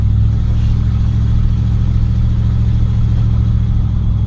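Car with a 350 TBI engine drives along with a loud, throaty exhaust, its steady rumble close and continuous, engine pulsing firmly as it runs under load during break-in.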